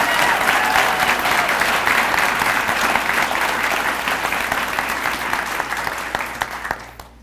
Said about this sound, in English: if you would give them a round of applause for making this happen